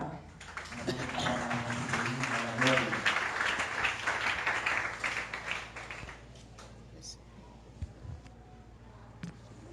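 Applause from a church assembly in a Haitian community congregation: a burst of clapping for the first several seconds, with voices mixed in, then thinning out into quieter room sound and occasional taps.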